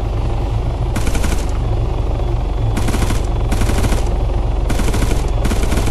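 Bursts of automatic gunfire in a military video game, several sharp rapid volleys of varying length separated by short pauses over a constant low rumble.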